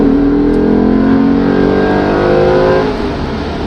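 A 2007 Audi RS4 B7 engine revs loudly and close, its tone holding steady then dropping as it eases off, with exhaust pops under the falling pitch.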